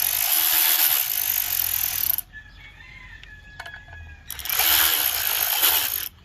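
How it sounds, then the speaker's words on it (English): A small hand ratchet tightens bolts on a K20 engine, two bursts of rapid clicking separated by a quieter pause with faint metallic taps, close up. "I just bought this nifty little ratchet. I swear, it's my new favorite tool."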